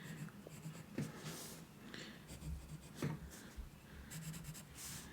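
Pen strokes scratch steadily across paper while block letters are drawn freehand, with soft rhythmic scribbling and a few sharper taps between strokes, close and continuous with no talking.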